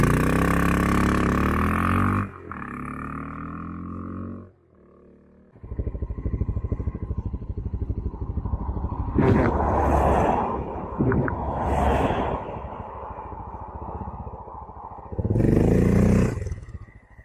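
Honda XR650L dual-sport motorcycle with a 14-tooth front sprocket accelerating hard, engine roaring up through gears with pauses between shifts, loud bursts of revving and a rough, pulsing exhaust note.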